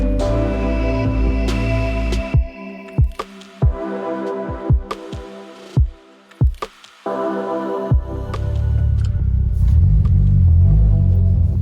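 Boosted Mitsubishi 4G69 engine running steadily after a motor mount change, a low continuous rumble broken by a string of sharp knocks and clunks midway before settling back into an even drone.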